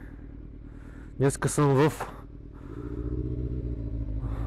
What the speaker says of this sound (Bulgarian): реших да изкарам мотора